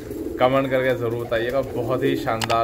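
Imported Pakistani white bar pigeons in a breeding pair setup coo in low, rolling, repeated phrases beneath a man's steady, close talking.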